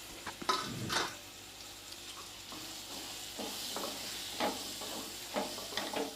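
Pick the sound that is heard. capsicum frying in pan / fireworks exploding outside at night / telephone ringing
capsicum frying in pan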